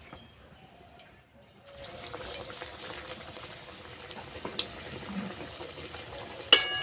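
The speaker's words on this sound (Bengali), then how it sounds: "তেল হালকা গরম করে নিয়েছি, এবার ভেজে নেব।" Stuffed vegetable pocket parathas fry in lightly heated oil in a kadai, giving a low, steady sizzle with soft crackles and a few sharper pops, quiet at first and then rising and holding at a moderate level.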